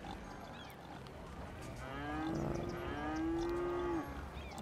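Cattle moo in the Cities: Skylines city-building game, a long, loud low bellow swelling over a steady background hum of ambient game noise.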